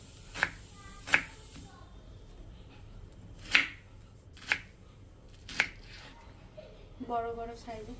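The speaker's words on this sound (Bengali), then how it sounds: "তো বন্ধুরা পেঁয়াজটা কেটে নেওয়া হচ্ছে মটনের জন্য" Onions are chopped for a mutton curry, a slow series of about six sharp knife strikes on a board spaced irregularly, with a voice speaking toward the end.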